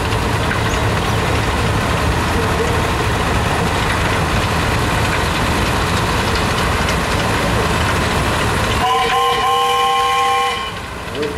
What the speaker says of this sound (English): And then we have a 1969 Massey Ferguson 135.